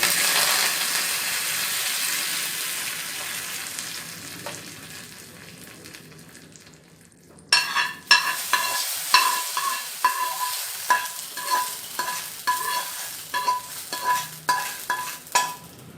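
A tempering of mustard seeds, cumin, chilli and curry leaves for a chow chow kootu sizzles in a pan, first a fading steady hiss, then a burst of crackling with repeated spoon clinks and scrapes against the metal.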